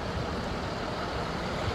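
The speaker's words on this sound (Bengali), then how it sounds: "এখানে একটা ট্রাম না বাস পুরোনো দিনের এসে নামলো।" An old-style Kingston city tour bus, styled like a vintage trolley, pulls in outside a hotel with a steady, close engine rumble and road noise, no voices over it.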